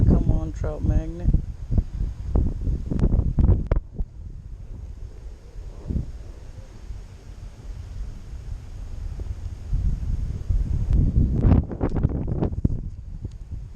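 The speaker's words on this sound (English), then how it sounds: "Very windy back here." Gusty wind buffets the microphone with a low rumble while trout fishing, rising and falling, while a person talks over it at the start and again near the end.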